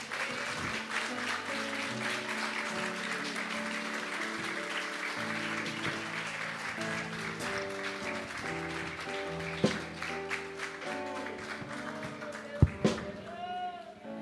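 A church congregation at a Holy Communion service claps in praise, with a steady patter of hands running under sustained organ or keyboard chords, moderately loud and continuous, with a few sharper knocks near the end.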